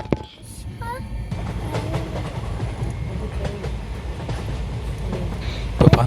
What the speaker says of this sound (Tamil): ட்ரெயின் ஸ்டார்ட் ஆகிடுச்சு. ஸோ மூவ் ஆகிட்டுருக்கு.